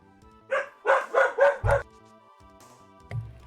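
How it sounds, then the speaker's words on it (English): A dog barks nearby, about five loud, quick barks in a tight burst followed by one softer bark, with no talk over them. "And my dog is barking."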